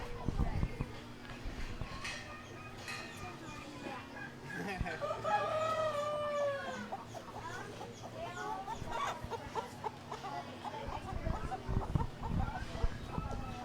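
Chickens cluck and a rooster crows at a county poultry show, with layered bird calls at moderate distance over hall murmur, and people talking nearby throughout.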